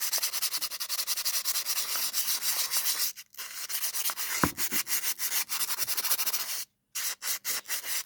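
An opal is rubbed by hand on 400 grit sandpaper in steady, rhythmic back-and-forth scratchy strokes, close and fairly loud, broken by two short pauses.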